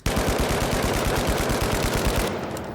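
Rapid sustained automatic fire from the FCAR assault rifle in the game The Finals, a loud continuous burst of closely spaced shots that stops near the end.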